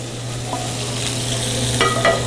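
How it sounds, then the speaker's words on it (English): Vegetables sautéing in a skillet make a steady, close sizzle under a low constant hum, with a couple of brief scrapes and clinks of stirring near the end. "We're gonna now saute our vegetables."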